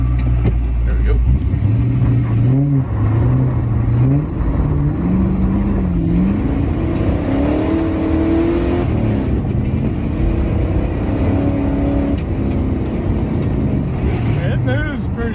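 A BMW E60 with a swapped LS V8 engine pulls hard under acceleration, its steady roar rising in pitch through the gears, heard from inside the car over wind noise, with someone talking partway through.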